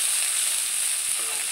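Fresh coriander sizzles steadily in hot oil alongside green chillies and garlic for a tomato chutney, a dense close-up hiss with no voices.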